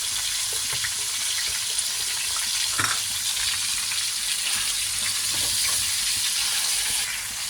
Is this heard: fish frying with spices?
yes